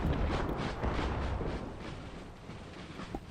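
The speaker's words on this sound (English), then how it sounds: "That artillery is quite brutal." Artillery fire thunders in an Empire 2 Total War battle, a dense, rolling barrage of distant booms blending into a continuous rumble that slowly eases, with no talk.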